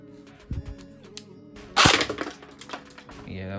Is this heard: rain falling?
no